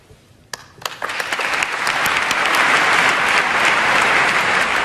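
Applause fills the hall after the oath of office at the inauguration of the president of the Generalitat, starting with a few scattered claps and swelling into steady, loud clapping from the whole room.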